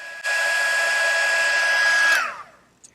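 A heat gun blasts steadily for about two seconds while heat embossing powder on vellum, a loud close whooshing hum with a whining tone that drops as it switches off and winds down.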